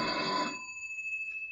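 An old-fashioned telephone bell rings in a 1951 old time radio spy drama, one loud burst of ringing that stops abruptly and leaves a thin ringing tone fading in a quiet room.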